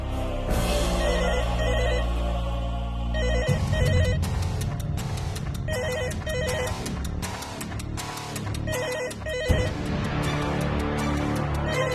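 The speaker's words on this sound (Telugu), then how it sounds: "సరసే ఫోన్ ఎత్తేలా చూడు తండ్రి." A telephone ringtone chimes in repeated bursts, loud and near, over a busy layered musical background.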